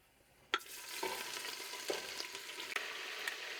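Chopped cooking onion dropped into hot bacon grease for homemade baked beans: a sharp hiss as it hits the pan, then a steady close sizzle with occasional stirring clicks.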